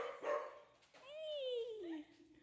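Dogs at an animal boarding and daycare facility give a short bark followed by a long, falling whine or howl, close by, with a person's voice mixed in.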